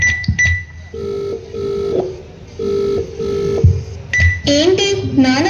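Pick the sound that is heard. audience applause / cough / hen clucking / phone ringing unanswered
phone ringing unanswered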